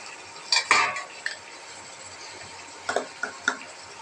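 Potato pieces tumble into a pot of cooking mutton, bringing a few clattering knocks and scraping clinks of metal, with short bursts separated by quiet, close and fairly crisp.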